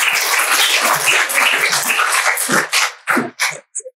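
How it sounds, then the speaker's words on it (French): An audience claps loudly in a dense wash of applause at a French corporate event, holding steady for nearly three seconds before breaking into a few scattered final claps and fading out. "je pense qu'on peut applaudir Elsa."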